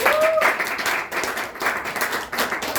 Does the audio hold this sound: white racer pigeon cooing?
no